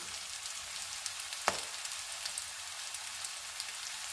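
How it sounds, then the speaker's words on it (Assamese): Browned onions with ginger-garlic paste fry in a pan, making a soft, even sizzle with one sharp utensil tap near the middle. "মই এইখিনি কেঁচা গোন্ধ যোৱালৈকে ভাজি থাকিম"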